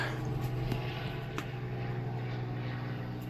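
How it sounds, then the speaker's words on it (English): A police helicopter drones overhead as a steady low engine hum and rotor buzz, distant and moderately faint, continuing unbroken. "Thank you very much, noisy helicopter, I think that is. Yep, helicopter."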